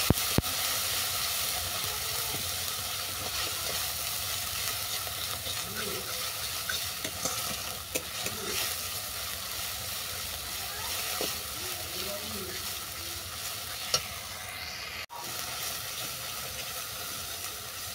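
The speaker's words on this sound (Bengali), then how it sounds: "সমস্ত উপকরণ ভালো করে কষিয়ে নেব।" Spices with salt and turmeric being stir-fried in a pan for a mushroom curry, a continuous close sizzle broken by occasional scraping stirs and clinks, with some faint speech in the background.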